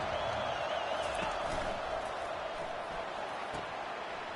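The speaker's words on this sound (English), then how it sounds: "Listen to the crowd energy here in the early going." A stadium crowd at a football game produces a dense, steady roar that holds at a constant level without clear peaks.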